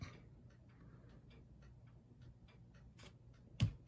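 A cheap alarm clock with a built-in radio ticks faintly and steadily in a quiet room, with one sharper click near the end.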